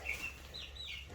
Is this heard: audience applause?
no